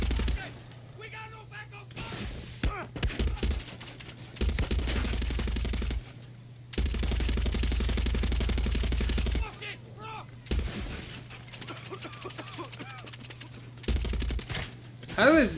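Gunfire in Far Cry 6 aimed at the player: loud bursts of shots in clusters between quieter stretches, with a steady low game hum underneath and no talk over it.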